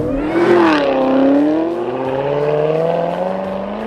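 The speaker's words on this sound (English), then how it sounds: "the car has this classic American V8 eargasm sound" A classic American V8 sports car engine revs up loudly and close by, its deep rumbling tone climbing and then holding a steady, throaty growl.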